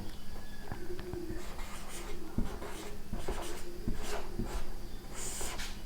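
Marker or chalk strokes scratch across a board during a Hindi history class, a run of short, close writing sounds over a faint background hum, with no voice heard.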